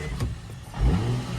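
A drift car's engine catches again after stalling and revs up in a short, mid-pitched burst that swells louder toward the end, heard close by with no talking.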